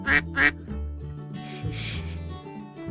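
Ducks quack in the otome video game Pre-Odyssey: two loud, close quacks open, followed by softer quacking over a sustained musical backdrop.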